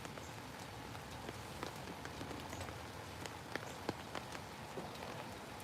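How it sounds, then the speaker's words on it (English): Heavy drizzle patters steadily on an umbrella outdoors during a fishing outing, a dense even hiss broken by scattered louder drops tapping close by. "The rain's coming down pretty good right now. I'll call it a very heavy drizzle."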